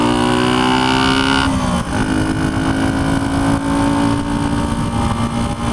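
A 1976 Honda CB125S motorcycle engine drones loudly and close as the bike rides along, its pitch dropping sharply with a downshift near two seconds before the revs climb steadily again.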